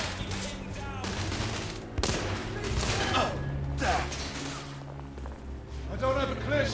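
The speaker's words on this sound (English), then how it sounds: "He's shooting." Rapid bursts of gunfire in The Order: 1886 video game, with dense repeated shots and mechanical clatter, continuous and loud with game music and voices running underneath.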